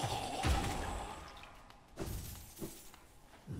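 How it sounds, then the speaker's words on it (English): In Hollow Knight, a spell's flukes, altered by the Defender's Crest charm, set off a huge smoke explosion: a sharp shattering burst, then two softer puffs a second or so apart, all fairly quiet. "Huge smoke explosion."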